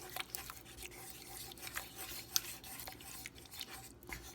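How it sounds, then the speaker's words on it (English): Faint scraping and rubbing of a utensil stirring sour cream into beef stroganoff in a pot, with irregular soft strokes and a sharp clink midway, quiet and without voices. "hurry up and stir it like that so it won't curdle"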